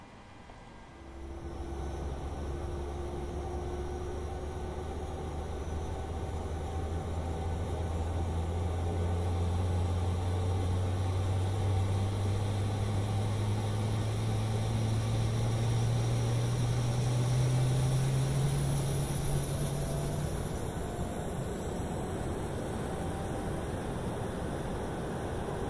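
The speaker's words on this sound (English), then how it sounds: "we're going to start the APU" The auxiliary power unit of a PMDG 737-700 airliner spools up in Microsoft Flight Simulator, heard from outside the aircraft: a steady rising turbine whine and low hum that climbs in pitch and settles into a loud, continuous drone.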